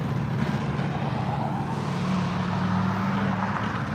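Low, rumbling exhaust burble from a Dodge Charger in cruise traffic on Woodward Avenue, a steady loud drone with a held low tone partway through, no talking over it.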